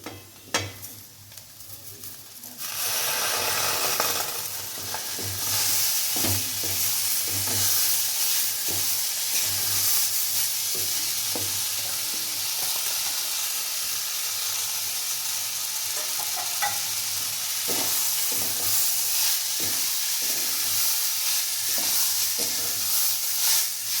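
Fried mung dal and gobindobhog rice are stirred in a pan, a steady close sizzle broken by repeated scraping strokes of a spatula, starting quieter and continuing loud and even throughout, with no talking.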